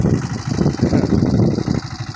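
A boat engine chugs close by in a low, rumbling, uneven drone while the boat is out on the Ganges. It runs continuously at a fairly loud level, and no voices are heard.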